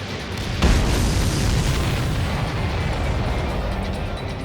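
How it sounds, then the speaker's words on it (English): A missile strike explodes in the combat flight game Ace Combat 7: a sudden deep boom rolls out into a sustained low roar and rumble lasting several seconds, loud and close. "Missile hit."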